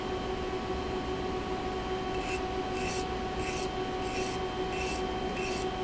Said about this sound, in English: So in order to remove the burr, you're pretty much obligated to go into the stone.